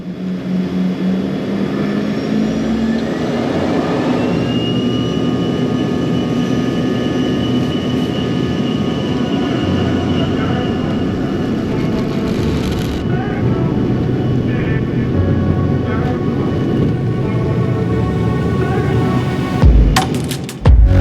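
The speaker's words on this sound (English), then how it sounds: "As we rocketed off the ground headed west, I was excited to get a view of the coast" A JSX semi-private jet roars down runway 24 and climbs out westbound, its loud, steady engine thrust filling the whole stretch with a rising whine, then shifting slightly in tone near the end.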